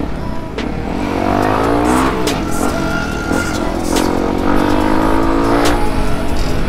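Supermoto motorcycle engine revving close by, rising and falling in pitch through several throttle blips, loud and continuous, with a harsh buzzy exhaust tone.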